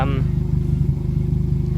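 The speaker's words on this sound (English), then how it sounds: "Once it's idling like it is now, I'm at standard temp and just sits there purring quietly." A Toyota MR2 with a Toyosport exhaust idles at normal temperature, a steady low rhythmic burble close by, with a brief voice at the start.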